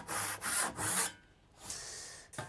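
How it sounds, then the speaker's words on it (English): A sharp tenon handsaw cuts wood in a few quick, close back-and-forth strokes with a rasping sound, pauses briefly, then makes one more stroke, with no voices. "I'm just going to kick us off on our outer lines only using my handsaw. This is a nice little sharp tenon saw."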